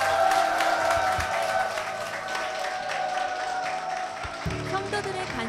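Church congregation applauding for the pastor and the church, a steady wash of clapping at moderate level with music or singing underneath, swelling again near the end.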